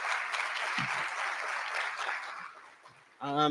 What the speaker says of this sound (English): Let's give it a round of applause for everybody here today